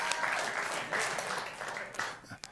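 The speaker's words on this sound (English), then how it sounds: "You can clap." Audience applause after a talk, a moderate burst of clapping that swells, dips and comes back with a few sharp individual claps near the end.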